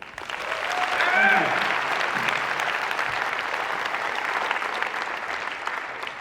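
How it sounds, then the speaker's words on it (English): A live audience at the 8% Nation 2024 event breaks into a full round of applause, dense and loud, swelling in the first second and then holding steady for about six seconds without talk over it. "Give Mike a round of applause, everybody."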